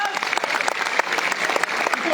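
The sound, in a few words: audience applause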